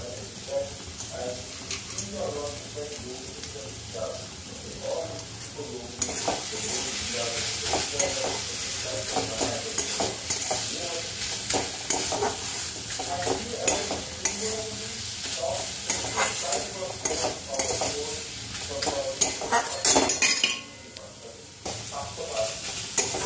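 Red amaranth greens with fried peanuts stir-fried in a pan, a steady sizzle with scraping stirs throughout, growing louder partway through, with occasional quiet talk.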